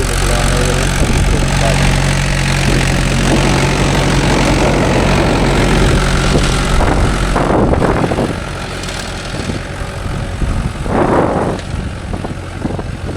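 Mahindra 575 DI tractor engine running steadily in farmland with a 9-tine cultivator, a loud continuous low diesel rumble throughout with brief louder bursts near the middle and toward the end.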